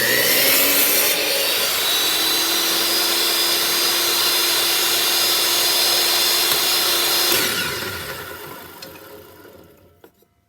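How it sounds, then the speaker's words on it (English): Steady back-and-forth hand sawing through small wooden strips for a Christmas tree box decoration, loud and close, running without pause for about seven seconds before stopping and fading to a few faint knocks. "I'm going to cut those little strips."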